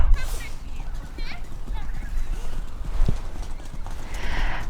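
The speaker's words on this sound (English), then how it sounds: "there are horses coming in the background" Horses clip-clop past outdoors, with steady hoof beats and a whinny in the background while someone speaks softly in a whispery voice over them.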